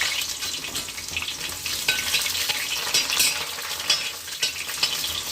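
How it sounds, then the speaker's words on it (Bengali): Thickly sliced onion and a torn bay leaf fry in hot oil, a dense crackling sizzle with repeated stirring scrapes close by and no talk. "একটা তেজপাতা দিলাম টুকরো করে একটা পেঁয়াজ মোটা মোটা করে কেটে রেখেছিলাম দিয়ে দিলাম"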